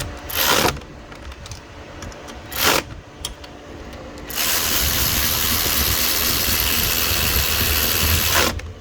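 Ratchet snugging size 12 bolts while installing a knock sensor on the aluminum block of a 2012 Acura TL J-Series V6: a few short clicking bursts close by, then a long steady whirring stretch.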